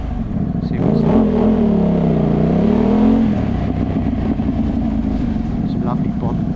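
A Ducati Hypermotard V2 motorcycle fitted with an Austin Racing dB-compliant full exhaust system accelerates hard in sport mode, its engine note rising and climbing in pitch for several seconds before settling into a steady, loud drone.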